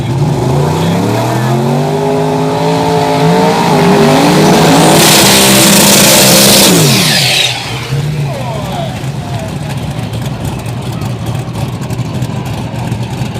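Race cars at Xtreme Raceway Park drag strip, including a yellow S10 and a turbocharged car, rev hard through rising engine sweeps into a loud burnout roar before settling to a rumbling idle, with an announcer talking over it.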